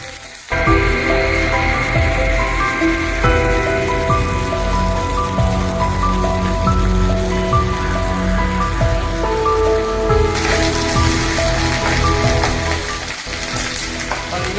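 Ginger paste sizzles and fries in a hot pan for a Tamil kootanchoru dish: a loud, steady, dense crackle that runs almost the whole time and brightens near the end, with faint tonal sounds underneath.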